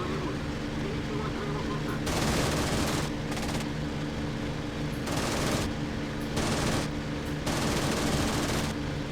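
Bursts of rapid aircraft cannon fire in the flight sim game IL-2 Sturmovik 1946, four or five loud sustained volleys separated by short pauses, over a steady engine drone with voices underneath.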